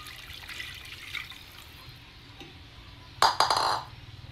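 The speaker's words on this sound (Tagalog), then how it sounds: "So, lagyan natin ng tubig." Water poured into a boiling pot of sardines with misai (odong noodles) during home cooking, a short splashy gush near the end after quiet kitchen background.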